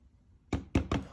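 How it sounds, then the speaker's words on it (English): Three knocks on a door in a Doki Doki Literature Club mod video game, sharp distinct raps after a brief quiet, the last two closer together, with no talking. "Yuri approached Josh's house and knocked 3 times on the door."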